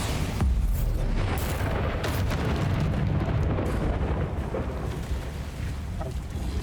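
Rumbling magical blast of the Bombarda explosion spell in Hogwarts Legacy, a dense, continuous booming roar mixed with crackling debris throughout.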